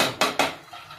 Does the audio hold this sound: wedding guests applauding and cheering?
no